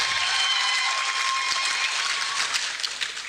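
Sustained applause from a State House ceremony audience, broad and loud at first, then thinning toward the end as fewer hands keep clapping.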